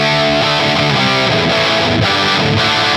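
Electric guitar played dry through a MESA Boogie Dual Rectifier preset on a Line 6 POD Go, a loud, continuous heavily distorted high-gain tone with chugging notes and chords.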